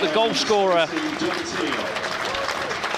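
A football crowd at an FA Cup match between Scarborough Athletic and Forest Green Rovers gives a broad round of applause as a substituted player leaves the pitch, with a radio commentator talking over the steady crowd noise.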